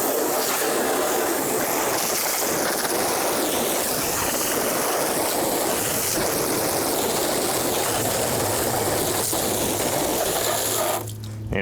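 Water streams steadily to rinse soap from a car's painted body, a loud continuous spray hiss that runs unbroken and then cuts off just before the end.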